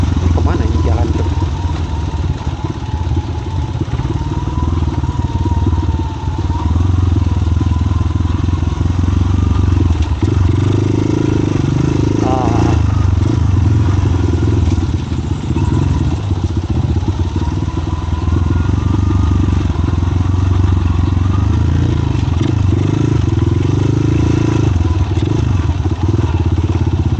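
A motorcycle rides a winding village road, its engine running steadily with clatter and bumps throughout, under intermittent talk from the rider.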